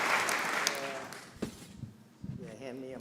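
Audience applause at the Mackinac Policy Conference trails off, fading to quiet before a few scattered claps and voices return near the end, with talk audible over the tail.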